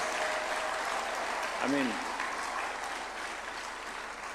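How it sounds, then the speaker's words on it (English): Applause from guests at a swearing-in ceremony for new judges, a steady broad clatter of clapping throughout, with a brief spoken interjection and a short tonal sound partway through. "Can we a round of applause for these people?"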